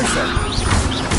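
A Leviosa spell cast in Hogwarts Legacy gives a short, dense burst of magical clatter and whooshing shimmer, loud and busy throughout its brief span.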